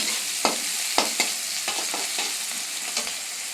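Onions frying in hot oil tempered with cumin and bay leaf, a steady close sizzle broken by several sharp stirring scrapes of a spatula against the pan.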